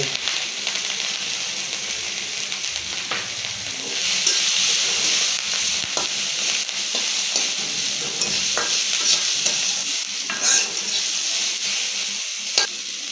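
Onion and chili sizzle steadily in hot oil for a fish curry with potatoes, a continuous loud hiss with occasional stirring scrapes and pops throughout.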